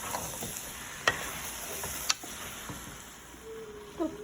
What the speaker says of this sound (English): So you want to continue to mix until it all looks like this side.